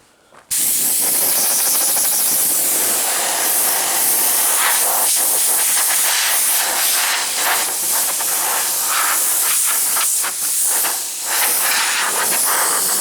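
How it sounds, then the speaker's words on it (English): A hose or pressure sprayer blasts water onto a first-generation Ram truck frame, giving a loud, continuous hiss and spray that starts abruptly after a brief quiet moment and runs steadily to the end, with no talking. "spray the frame off and get started"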